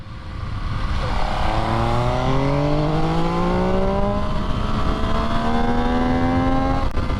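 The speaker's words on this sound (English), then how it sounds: "Brutale 800 3-cylinder, 140 horsepower, awesome sounded, awesome looking bike." An MV Agusta Brutale 800 RR three-cylinder motorcycle revs up through the gears, its engine note rising steadily in repeated pulls, loud and close over a constant roar.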